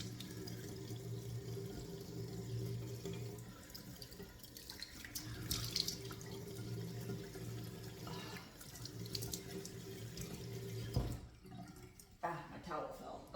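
Tap water runs steadily into a sink during face washing, with a constant hum in the background and splashing bursts; near the end the flow stops and a few handling noises follow.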